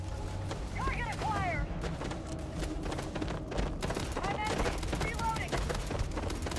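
Sci-fi gunfire from the space game Starfield crackles as a steady barrage of shots beneath dense game noise and whooshing effects, with speech-like chatter and swooping tones layered over the din throughout.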